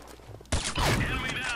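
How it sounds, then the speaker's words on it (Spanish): Gunfire in the online shooter Combat Arms: a quiet moment, then an abrupt loud burst of shots with a crackling tail that fills the rest of the moment. "¡Qué bonito disparo!"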